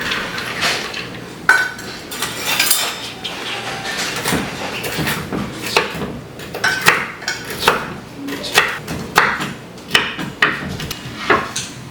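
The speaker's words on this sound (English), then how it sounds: "next I'm going to chop up some pecans" A knife chopping pecans on a cutting board, a series of irregular sharp taps and knocks that grow more frequent over several seconds, close and moderately loud with no talking.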